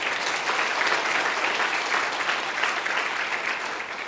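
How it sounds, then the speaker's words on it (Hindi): Students applaud together at a business-school entrepreneurship session in India, a dense, steady clapping that holds at even loudness from start to finish with no voices over it. "एक बार अपने लिए तालियां बजाओ"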